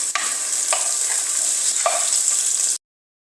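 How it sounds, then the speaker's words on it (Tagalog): Onions and ginger sautéing in a pan make a bright, steady, hissing sizzle, with a few soft stirring scrapes breaking through before it stops abruptly. "Tapos sunod natin yung sibuyas. Yan, halo-halo lang guys."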